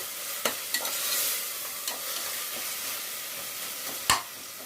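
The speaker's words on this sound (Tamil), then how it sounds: "நல்லா அந்த பச்சை வாடை போகிற அளவுக்கு நம்ம இதிலேயே வதக்கிக்கணும்" Mint pulao masala sautéing in oil in a pan, a steady soft sizzle broken by a few sharp scraping knocks of a stirring spoon, moderately quiet and close, with no talking.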